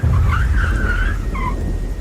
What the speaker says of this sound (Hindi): मुझे अपने पीछे गाड़ी के ब्रेक की आवाज़ सुनाई पड़ी।